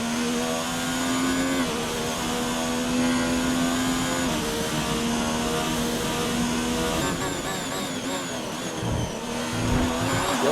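A race car from a sim racing game lapping the Baku street circuit, its engine a steady loud whine that rises and drops with gear changes, continuous with no talk.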